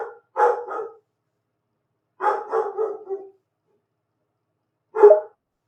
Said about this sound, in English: He's barking in the background right now